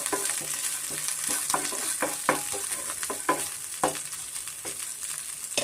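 Grated ginger fries in a pan for a vegetable paddu breakfast dish: a steady close sizzle with repeated spatula scrapes and clicks as it is stirred, and no voices.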